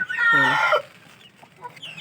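A single large heritage-breed chicken gives a loud, harmonic cackling call lasting under a second, then only faint farmyard background and distant small noises remain.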